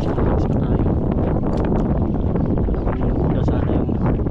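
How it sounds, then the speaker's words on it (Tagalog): Strong wind buffets the microphone with a constant low roar and rumble, continuous and loud throughout. "Medyo mahangin na"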